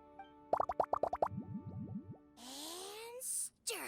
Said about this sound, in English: I'm gonna add all the remaining ingredients. Lizard tails, fish scales, mucus, and the slime condensate.